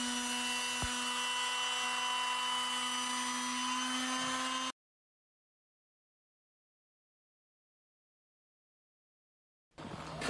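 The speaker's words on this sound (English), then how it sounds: "Repeat the process using 240 grit and then 320 grit sandpaper." A power sander works over a UPVC door with 240 and then 320 grit sandpaper, giving a steady whirring hum with a faint rubbing texture, then cutting out to silence before starting again.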